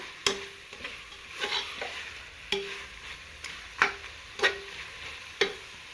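Garlic, ginger and tomato for chicken curry being stirred in a pan, sharp spatula knocks and scrapes recurring every second or so over a faint, quiet sizzle.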